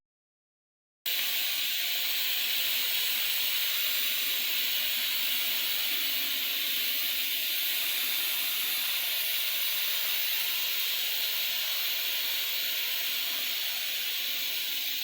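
Steam hisses from a pot of mutton cooking under pressure on a stove. After a second of silence a steady, close rush of hiss starts and holds unbroken to the end, and no one speaks.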